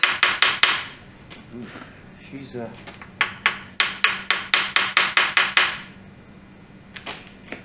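Sharp metallic hammer strikes knock rod bolts out of an old, seized Mopar 340 engine, coming in close rapid runs of ringing blows with pauses between them, while a voice briefly exclaims.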